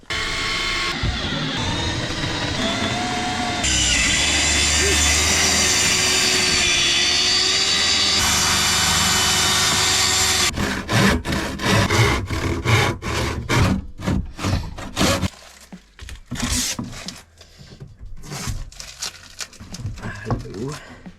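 Power saw cutting a hob cutout through a wooden IKEA kitchen worktop during a van conversion, a long loud continuous whine that breaks into choppy bursts of cutting, with voices talking over it.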